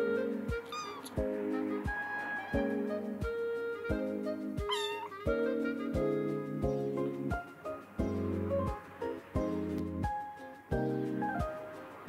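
Kittens meow repeatedly in high, thin calls, with a few longer wavering cries, heard close over a busy, cluttered background with steady thumping.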